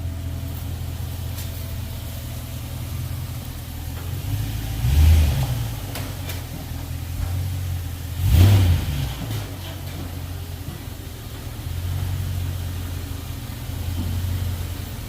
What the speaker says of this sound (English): quit revving that raggedy mother